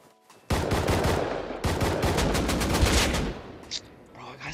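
Rapid bursts of AK assault rifle fire in the video game Rust, loud and sustained automatic shots in two long strings with a brief gap, then fading into softer sounds, with voices talking around it.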